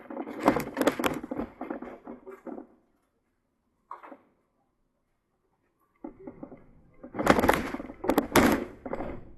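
A building door opens and closes with a few soft clicks and thuds, heard between stretches of nearby shuffling and handling noise.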